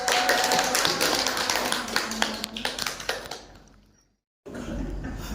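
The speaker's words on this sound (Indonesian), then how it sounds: "Beri aplaus." A brief round of applause from a classroom group or school audience, a dense burst of clapping that thins out, stops, and is followed by a low murmur.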